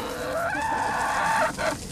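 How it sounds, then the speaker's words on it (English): Backyard coop chickens cluck and murmur nearby, a run of throaty fowl calls with a couple of sharper squawks, moderately loud over faint outdoor ambience. "Lauren Adams, who lives on Haystack, has a chicken coop which until last night held 7 chickens."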